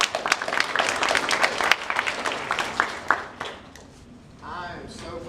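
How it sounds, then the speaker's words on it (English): A crowd at an orientation event breaks into loud, crisp applause that tapers off after a few seconds, and a voice starts talking as the clapping dies away. "everybody give them a round of applause"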